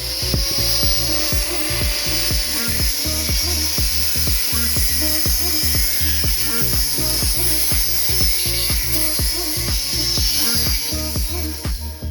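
A power drill drives a self-tapping screw into a steel trailer frame, giving a loud continuous whine broken by rapid, regular ratcheting clicks close up.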